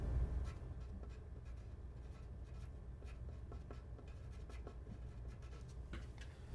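A pen scratches across a sheet of paper while a tabletop game is tracked, quiet close strokes in short irregular bursts over a soft room hum, with no speech.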